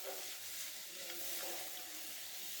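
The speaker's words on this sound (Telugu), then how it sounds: "బాదం, జీడిపప్పు బాగా కలిసేటట్టు కలుపుకోవాలి" A coconut and jaggery laddu mixture with ground almonds and cashews is stirred in a hot pan, giving a steady bright sizzle with faint scraping strokes underneath.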